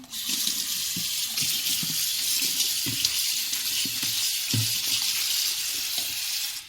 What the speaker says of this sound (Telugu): టమాటాలు ఇవన్నీ కడిగి పెట్టుకుందాం